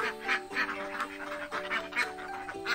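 A flock of about 46 farm ducks quacking at feeding time, a continuous chorus of repeated nasal quacks in an uneven rhythm, close by and fairly steady.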